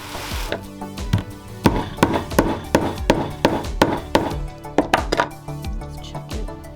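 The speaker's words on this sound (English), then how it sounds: "Give it a couple of firm whacks with the hammer." A hammer strikes a button tack on a pair of jeans, about a dozen firm, sharp knocks in an uneven rhythm, close and loud with no talking.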